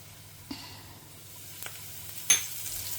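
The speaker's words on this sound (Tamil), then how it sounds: "இப்போ சுண்டை வெத்தலை போட்டு பொரிச்சுட்டுலாம்." Dried turkey berries (sundakkai vathal) frying in hot oil in a home kitchen, giving a quiet, steady sizzle with a few brief crackles and pops and no talking.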